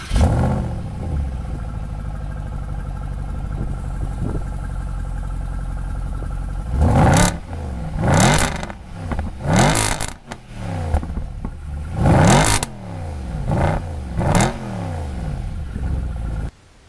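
A Mercedes SLS AMG Roadster engine idles with a steady rumble, then revs hard in a series of loud, rising bursts, each throttle blip swelling and falling away.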